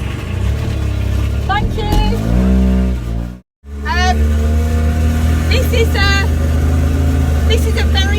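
A 1970s Snuggy Charly micro car's small engine runs hard at full throttle, a steady loud buzzing drone with a brief dropout midway, while a person speaks briefly over it.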